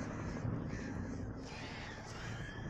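Crows caw repeatedly in the Alan Wake video game, a loud, dense flock of harsh calls sustained throughout over a rumbling game soundscape.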